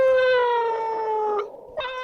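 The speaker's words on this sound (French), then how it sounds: "Ouais, c'était un chat." A cat gives a long, drawn-out meow that slides slightly downward for over a second, falls silent briefly, then starts a second meow at close range.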